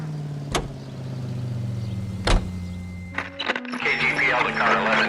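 A car driving in the video game L.A. Noire: a steady low engine drone with a couple of sharp thumps like a door, then busier, noisier traffic and cabin sounds toward the end.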